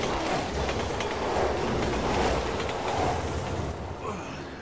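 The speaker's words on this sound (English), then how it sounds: "The train is coming." A train in Resident Evil 6 rushes in, a loud continuous rumble and rattle of wheels on rails with some squealing, steady throughout before easing slightly at the end.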